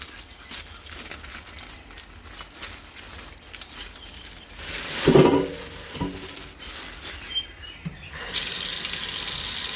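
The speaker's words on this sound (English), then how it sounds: "Let it run under cold water." A kitchen tap runs cold water over frozen shrimp being rinsed, a hissing stream with a louder splashing burst midway and a stronger gush near the end, close and with no talk.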